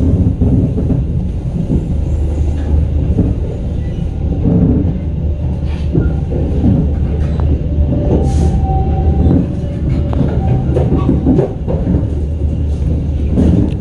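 Taksaka executive train running through Cikampek station without stopping, a loud continuous low rumble of wheels and carriages with rhythmic clatter and a brief squeal, heard from onboard.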